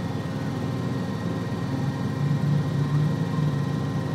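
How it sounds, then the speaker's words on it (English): A Sealegs amphibious boat's outboard propeller turns in the water, a steady low droning engine hum that swells slightly louder and rougher toward the end, with no voices. "Start to hear my prop turning"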